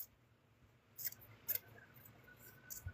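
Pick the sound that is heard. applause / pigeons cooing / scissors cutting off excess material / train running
scissors cutting off excess material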